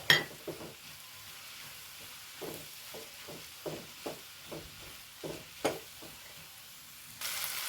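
Ginger and green chillies sauté in a pan after garlic for a jackfruit biryani, with a soft, low sizzle broken by a dozen distinct stirring scrapes and knocks at uneven intervals. A louder burst of frying comes at the very end.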